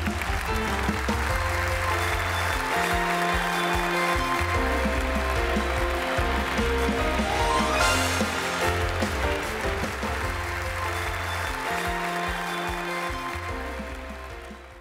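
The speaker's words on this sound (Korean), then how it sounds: "여러분 힘찬 박수를 부탁드립니다" An audience at an Atomy shipboard party and Royal Master promotion ceremony claps steadily for several seconds, the applause riding under loud music with a deep bass line before it thins out toward the end.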